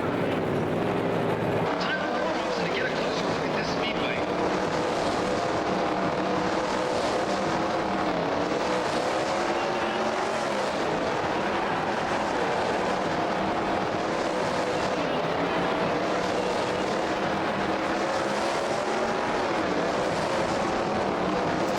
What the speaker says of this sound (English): It's certainly winding up in the RPM at the end of the straight